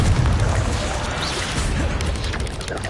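A Confringo blasting spell bursts in Hogwarts Legacy, a loud, dense, rumbling explosion that stays heavy and sustained through the whole moment with crackling debris on top.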